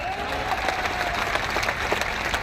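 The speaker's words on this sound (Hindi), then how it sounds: "आप लोग ताली तो बजाओ जोरदार" A rally crowd at a Valmiki community gathering in Jaipur claps loudly and continuously, a dense wash of many hands with a faint crowd murmur beneath it.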